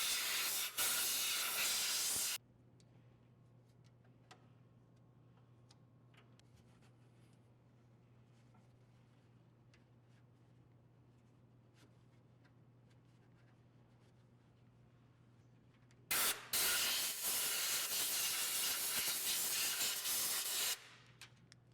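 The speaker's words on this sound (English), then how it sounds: "Spray penetrating oil on the elevation threaded rod." Penetrating oil sprayed onto the elevation threaded rod of a SawStop contractor table saw, two loud bursts of hissing aerosol spray, about two and five seconds long, separated by a quiet stretch with a low steady hum.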